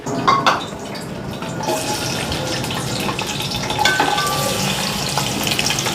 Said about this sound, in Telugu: ఆనియన్ వేయించాలి కదా